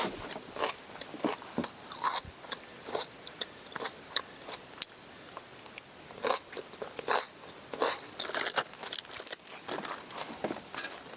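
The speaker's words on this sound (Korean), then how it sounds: "겉절이는 지금 담갔더니 진짜 아삭아삭해요." Crunchy, freshly made geotjeori kimchi being chewed at a campsite, a steady run of close, crisp bites and crunches with a faint higher whine behind them and no talking.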